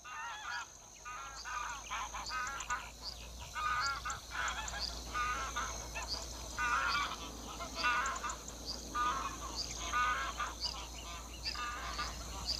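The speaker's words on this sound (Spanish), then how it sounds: "El ganso gris, el ave migratoria más abundante en Doñana, vuela desde el norte de Europa en bandadas completas." Flocks of greylag geese honk together in the Doñana wetlands, a continuous chorus of repeated overlapping calls at moderate distance over a low background rumble.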